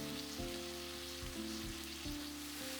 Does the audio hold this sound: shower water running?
no